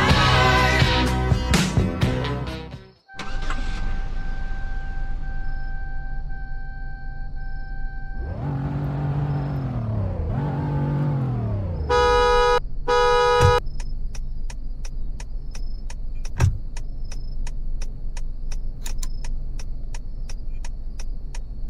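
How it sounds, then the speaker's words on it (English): A 2003 Pontiac Aztek in the Roblox game Greenville gives a steady engine hum, then two rising revs, then a few short, loud honks of the horn, followed by a continuing idle with faint ticking. "Now let's take a look at the lights and sounds of the Pontiac AZTEK."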